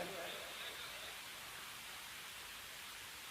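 Rain falls in a steady, even hiss throughout, soft and continuous with no distinct drops standing out, while a voice speaks over it.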